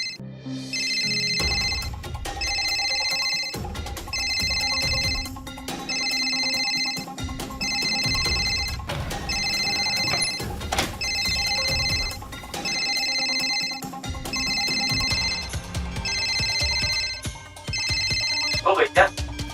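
A phone ringtone repeats in regular bursts of bright electronic tones, loud and close, while people talk over and between the rings.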